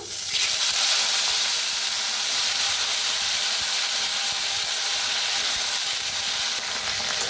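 Capsicum and potato stir-fry in a hot pan with mustard seeds, cumin, asafoetida and curry leaves, giving a loud, steady, hissing sizzle that holds evenly throughout with faint stirring underneath.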